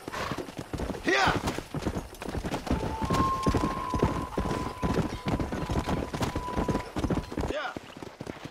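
Horse hooves clip-clop at a steady gallop through the Red Dead Redemption frontier, continuous and fairly close, with voices talking over the ride and a brief whinny near the start.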